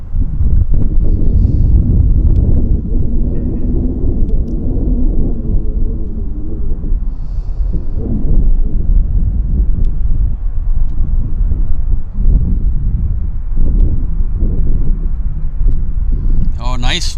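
An Air Canada Boeing 787-9 Dreamliner arriving from Osaka comes in to land at Vancouver airport, a steady low jet rumble with heavy wind buffeting on the microphone and a person talking over it throughout.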